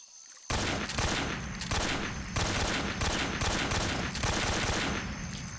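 An automatic weapon fires sustained bursts in Metal Gear Solid 3, loud and close, with four or five long rattling strings of shots separated by brief pauses after a quiet start.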